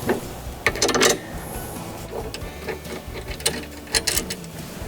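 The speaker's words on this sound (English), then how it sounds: "we can get the spanner and we can start to tighten them up" A 13mm spanner tightens nuts down onto split washers, heard as close, irregular metallic clicks and ratcheting scrapes in short bursts, with light handling noise between them.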